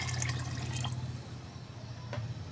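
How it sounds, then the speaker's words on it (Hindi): Water pours steadily into a pressure cooker pot of Kashmiri dal from close by, a soft continuous splashing with a faint low hum underneath. "अब इसके अंदर हम पानी ऐड कर देंगे।"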